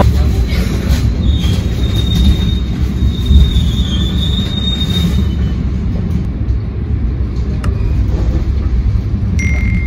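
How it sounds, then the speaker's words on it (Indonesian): The Malabar business-class passenger train pulls into Yogyakarta station in Indonesia with a loud, steady rumble of rolling wheels and thin, high squeals of steel wheels on the rails, close by and continuous. "kereta api Malabar yang saya naik telah tiba di stasiun Yogyakarta"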